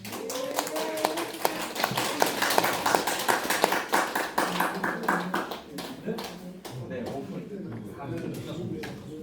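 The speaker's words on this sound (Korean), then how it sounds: "우리 교우장님이 앞으로 오실 때 큰 박수로 주시면 감사하겠습니다" Sustained clapping from a church seminar congregation welcoming a pastor and trot singer forward, a dense burst of hand claps that swells, then thins and fades, with voices mixed in.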